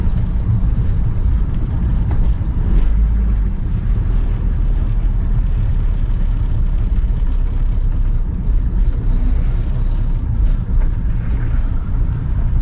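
A Toyota Townace van with a 2-liter four-cylinder diesel and manual transmission drives a straight road in Sri Lanka. Heard from the cabin, steady loud rumble and wind noise fill the whole stretch with no talking.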